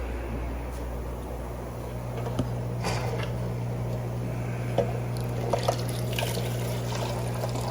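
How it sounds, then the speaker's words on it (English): Clean, circulated and heated water trickles steadily into a guppy tank, a soft continuous pour with faint splashes over a low room hum. "Let me fill this up with clean water."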